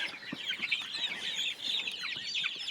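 Young chicks and chickens in a chicken house, with a constant flock of high peeping and soft clucking close by and no voices.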